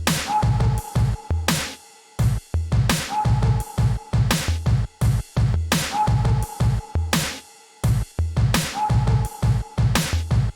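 A produced beat plays with its drums compressed so the mix sits tight and the drums push forward. A dense, loud, looping rhythm of punchy hits and short breaks repeats steadily, with no voices.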